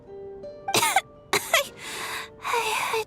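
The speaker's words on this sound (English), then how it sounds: "How long have you had that cough" A female character in Genshin Impact coughs: two short, sharp coughs followed by two longer, raspy hacking bursts, close and clear with brief pauses between them.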